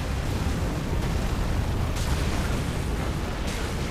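In Elden Ring, a boss's slam attack lands as a dense, booming roar of impacts and rumble, loud and continuous with a few sharper bursts on top, and no voices.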